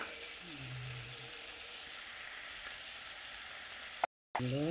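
A fish head sizzles steadily in hot oil with turmeric and chili powder, for a Bengali dish with Malabar spinach; the frying is continuous and close, with a brief gap near the end.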